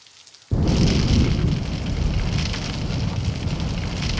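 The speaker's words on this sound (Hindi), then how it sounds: "देख बाहर छमाछम बारिश हो रही है।" Heavy rain outside starts suddenly as a dense, loud, steady downpour hiss and stays constant for several seconds, close and enveloping, with no voices.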